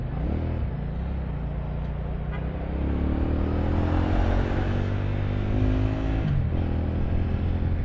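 Close, loud Keeway Benda Napoleon 500 motorcycle engine idling with a deep rumble, then revving up and settling back down; no speech.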